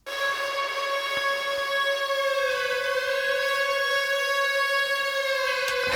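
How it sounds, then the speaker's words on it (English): An eerie vocal synth built from a single sustained note, pitched around and heavy with effects, holds a steady, bright, siren-like tone rich in overtones for several seconds, alone and unbroken. "this eerie like vocal synth thing that we made out of just a single sustain note"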